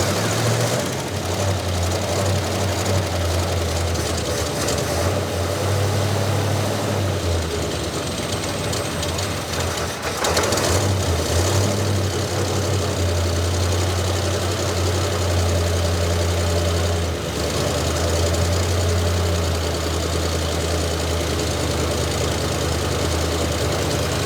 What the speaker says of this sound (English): So Briar is going to crank the car up for us.